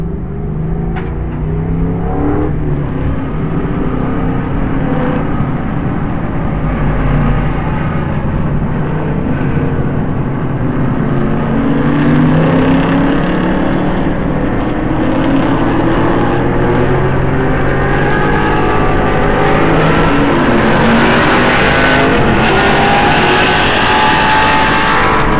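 Historic race cars on a pace lap at a SOVREN vintage racing event, with a loud, steady engine drone from inside or near the car that swells as it accelerates, mixed with wind and road noise.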